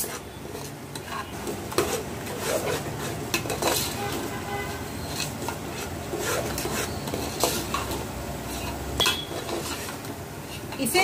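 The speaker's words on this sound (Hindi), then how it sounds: "इसे 10 से 20 सेकंड अच्छी तरह से मिला लें। 20 सेकंड अच्छी तरह से भूनने के बाद मसालों का कच्चापन भी दूर हो गया है" A spoon scrapes and clinks in a pan as spices are stirred and roasted with minced meat for kheema masoor pulao, with steady sizzling of frying and a continuous rhythm of metal on metal, close up.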